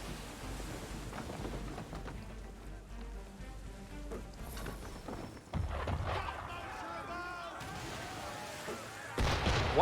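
Ship cannons firing in Assassin's Creed 3: deep booming blasts over a running sea-and-wind bed, with a heavy impact near the middle and another near the end, mixed with game effects and voices talking.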